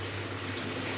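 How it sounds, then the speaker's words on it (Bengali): Water pours steadily into a pan of braised chicken curry, a continuous close gushing splash with no talk. "চিকেনটা কষানো হয়ে গেছে, বৌদি হচ্ছে এখন জল দিয়ে দেবে।"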